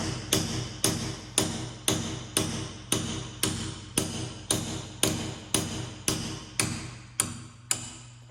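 A chisel clamped in a vise is struck with a hammer in a steady series of about fifteen sharp metallic blows, evenly spaced and close, each ringing briefly before the next.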